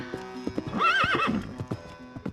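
A horse's hooves clip-clop in an uneven rhythm close by, joined by a loud whinny in the middle, from a horse ridden in sunshine in medieval times.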